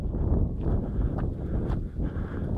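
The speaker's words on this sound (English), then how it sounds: "It's quite windy up here." Steady wind buffeting on an open hilltop, a constant low roar with gusty surges, loud and close with no other clear sounds.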